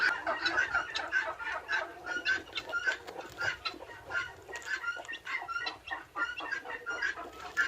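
Muscovy duck fussing near hatching ducklings and eggs, a steady run of close, dense clucking and peeping calls with no speech.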